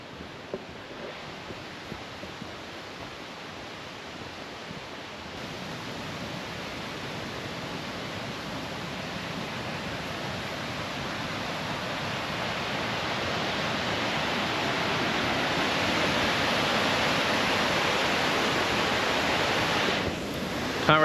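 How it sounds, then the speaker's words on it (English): Steady broadband rush of nearby waterfalls in a rainforest, unseen but close, swelling gradually louder over a long stretch with no voices. "You can hear the waterfalls."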